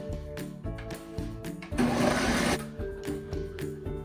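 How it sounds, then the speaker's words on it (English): A blender whirs in short pulsing bursts while blending tomato and oregano salsa, with a louder, harsher stretch of grinding in the middle, close up. "Put it in the blender"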